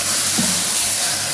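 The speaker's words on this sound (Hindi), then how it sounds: "अभी तड़कता भड़कता तड़का हम अपनी दाल में डाल देंगे" Hot tempering of cumin, curry leaves and Kashmiri red chilli is poured into dhaba-style chana dal, giving a loud, steady sizzling hiss that lasts about a second with no talk.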